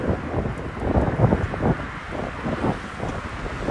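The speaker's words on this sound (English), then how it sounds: "This wind really fucking sucks." Strong gusty wind buffets a microphone during a city bike ride around the Jamaica Bay Loop in New York, a loud low roaring rumble that surges and eases in uneven waves, with no speech.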